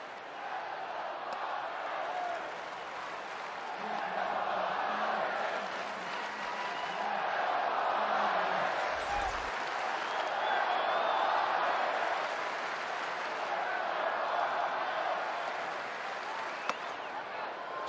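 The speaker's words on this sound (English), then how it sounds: "just hearing the crowd right now, doesn't it make you really appreciate what the fans are all about?" Crowd cheering and applauding at a Major League Baseball stadium as the Padres face the Reds, a broad continuous roar of clapping and voices that swells and ebbs, with a brief low thump partway through.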